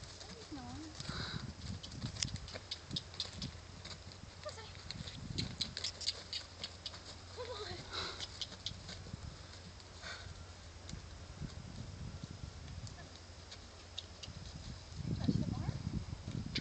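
Horse hooves clip-clop in a steady trotting rhythm, fairly faint, with a few soft thumps and some low background noise.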